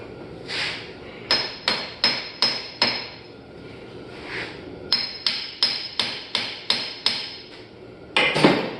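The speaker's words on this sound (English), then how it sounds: "Grab a different hammer." A 22-ounce framing hammer strikes metal in sharp, ringing blows while replacing a Toyota Tacoma clutch, mostly in quick runs of five or six evenly spaced hits, close and loud.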